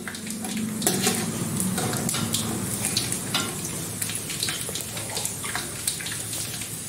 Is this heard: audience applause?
no